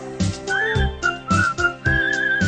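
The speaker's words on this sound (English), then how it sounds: "Just whistle while you work." A person whistles a lilting tune while scrubbing a Thompson Machine 9mm suppressor clean, clear bright notes rising and holding in phrases, over a steady low rhythmic backing.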